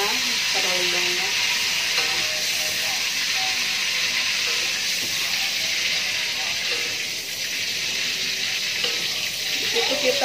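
Garlic frying in hot oil in a pan for a salted squid stir-fry gives a steady, loud sizzling hiss throughout, with faint stirring and a low voice now and then beneath it.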